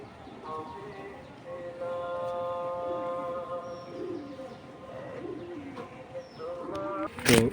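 Tiger grizzle pigeons coo softly and repeatedly at close range, their low throaty calls running steadily with faint background rustling and a sharp noise near the end.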